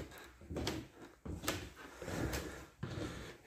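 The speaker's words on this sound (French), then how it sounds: "Alors on entend le parquet qui grince." Old wooden parquet floor in a château converted into a school, creaking and knocking with each footstep in a quiet, faint, irregular series of dull thumps.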